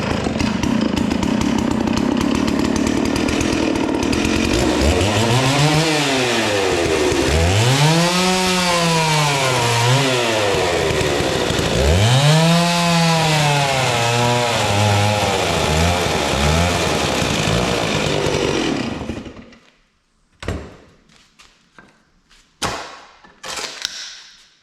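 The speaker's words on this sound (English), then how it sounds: "use a power saw" A chainsaw cuts wood to build a wooden stand for a CAT C13 engine, loud and steady for about nineteen seconds with rising and falling revs as it bites, then stops, leaving scattered knocks and handling noises.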